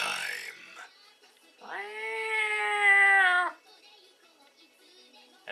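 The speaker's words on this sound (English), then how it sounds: "As Ryoki meows in the background" A cartoon cat in an anime episode gives one clear, drawn-out meow of about two seconds, framed by brief talk before and faint background sound after.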